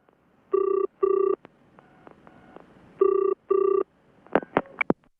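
A telephone rings in two pairs of double trills, each burst short and bright, followed by a few soft clicks and a sharp clatter as the handset is picked up.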